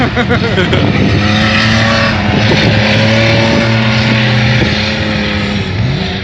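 Loud, continuous engine roar from several racing tractors, droning and revving close by, with voices shouting faintly underneath.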